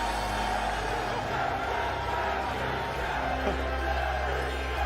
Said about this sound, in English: Wow, the crowd goes insane.